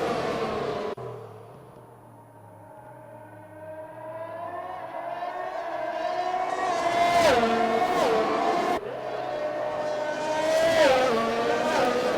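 Race cars in a racing video game roar away at a restart, engines climbing through rising, gear-shifting whines with a second car sweeping past, loud and continuous.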